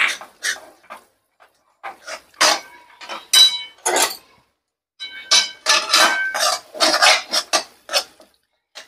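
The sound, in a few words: stirring mung bean sheero with cardamom powder in pan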